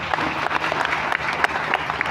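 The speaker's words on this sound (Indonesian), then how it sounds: "Beri tepuk tangan kepada bangsa." A crowd at a religious talk for students bursts into applause, brisk overlapping claps sounding close and lively throughout the short burst.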